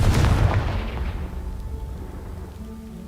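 A single Confringo blasting spell bursts in Hogwarts Legacy, a loud booming explosion at the start that decays into a crumbling, rain-like patter and fades to a low hum.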